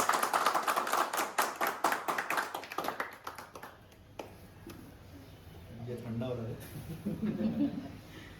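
Rapid hand clapping at a home birthday celebration, loud and steady for about three seconds right after the birthday song, then fading out as people start talking and chattering in the background.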